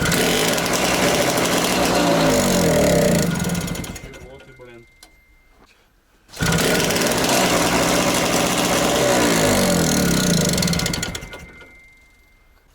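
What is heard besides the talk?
T-74 crawler tractor engine starting and running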